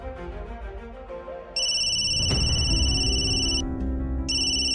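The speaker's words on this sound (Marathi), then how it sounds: "एवढ्या सकाळी सकाळी फोन कुणाचा आहे?" A phone rings early in the morning at home, its bright electronic ringtone starting partway through and repeating in loud, steady bursts over a low background hum.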